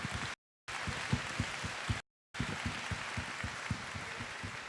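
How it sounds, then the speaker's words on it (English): An audience applauds at a Chinese language stage show in Sydney, a steady patter of clapping that cuts out twice in brief silent gaps. "Let's give them another applause."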